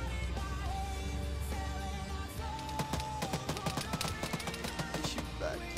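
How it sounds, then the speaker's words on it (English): Enemy gunfire answers back in a video game as a quick run of sharp shots. The shots sit close over a dense game soundscape of tonal hums and rumble. "He's shooting back."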